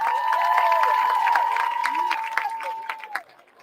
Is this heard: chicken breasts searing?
no